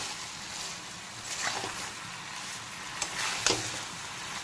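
Soft sizzling as potatoes, shrimp, ridge gourd and malabar spinach stems are stir-fried with spices in a pan, with a couple of sharper stirring scrapes, fairly quiet and alone.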